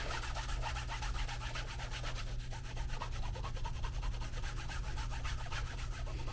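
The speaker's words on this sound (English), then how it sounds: "I'm just going to do a quick burnish" Leather edges of a fanny pack being burnished, a steady, close rubbing friction that continues evenly throughout without pause.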